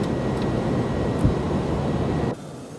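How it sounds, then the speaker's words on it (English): Airbus A300-600R jet climbing out after takeoff in the X-Plane 12 flight simulator: a steady, loud broadband engine roar that holds, then drops abruptly to a quieter hum near the end. "V1, rotate. Positive rate of climb, gears going up."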